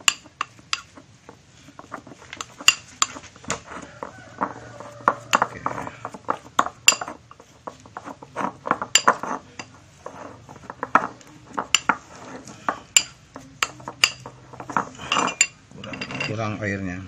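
Spoon clinking and scraping against a bowl while a fishing bait mixture is stirred with hot water, a steady run of close, irregular metallic clinks and scrapes with no talk.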